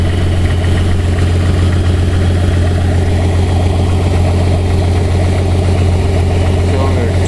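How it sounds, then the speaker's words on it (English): A 1982 Ford Granada's 200 cubic inch inline-six engine, factory propane-fuelled, idles at a steady mid-low rumble, close and loud, a constant even drone throughout with faint vibration. "This is an inline 6 engine, 200 cubic inch."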